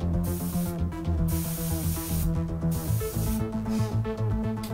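A Thayer and Chandler Vega 2000 airbrush sprays Spectratex paint in a close, loud hiss that comes in repeated bursts with brief gaps, with a steady tonal hum running underneath and no voices.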